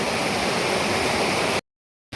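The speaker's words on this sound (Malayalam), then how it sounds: "നല്ല സുന്ദരി വെള്ളമല്ലേ നോക്കി എന്ത് രസമല്ലേ കണ്ട ഒഴുകുന്നത്" River water flowing steadily in a broad, continuous rush, close and loud, with no voices over it, ending in sudden silence before a brief return.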